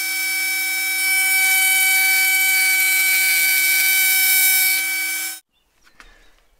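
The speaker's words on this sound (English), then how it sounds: "I'm using my Dremel again, but this time with a very fine, like a little ball. And what I do is I grind over the lines." A Dremel rotary tool with a fine ball bit grinds over carved lines in Movingui and Iroko wood, a steady high whine held for about five seconds, close and loud, then cutting off abruptly.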